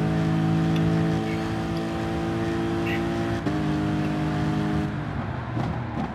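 Race car engine in Gran Turismo Sport hums at a steady, sustained drone, then drops off as the throttle is released near the end.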